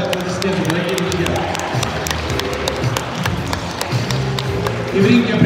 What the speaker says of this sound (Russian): Пожалуйста, Нэйчан, под ваши аплодисменты, дорогие друзья.